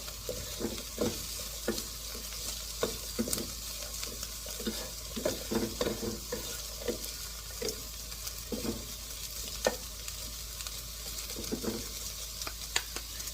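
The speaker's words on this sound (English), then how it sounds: "We're gonna cook the filling" Vegetarian egg roll filling cooks in a pan under a low, even sizzle, punctuated by frequent irregular spatula taps and scrapes as the vegetables are tossed.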